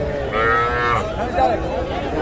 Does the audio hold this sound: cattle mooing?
yes